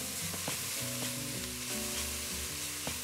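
Carrots sauté in oil with onion, garlic, salt and pepper for a colored pepper soup, giving a loud, constant sizzle close up, with stirring scrapes throughout and no speech.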